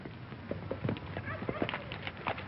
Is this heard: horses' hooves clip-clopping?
yes